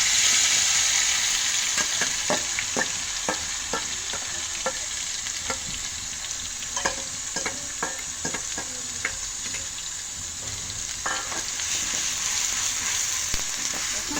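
Chapa shutki, fermented dried fish, fries in a pan, giving a soft continuous sizzle punctuated by a steady series of clicking spatula stirs, close and moderately quiet, with no voices.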